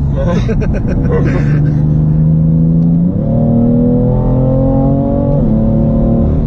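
A BMW M3 F80 Competition's engine revs hard and loud close by, its tires slipping at the start and its pitch climbing through two gear shifts, with a voice briefly heard at the start.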